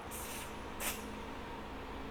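A Dazzle Me x Barbie airbrush spray blush gives two short, soft hissing bursts of mist close by, separated by a brief pause, over a quiet room background.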